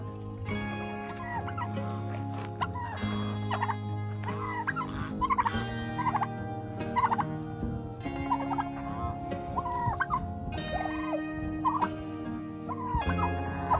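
Farm turkeys gobble repeatedly in a steady, fairly close chorus, the burbling calls overlapping throughout with no talking.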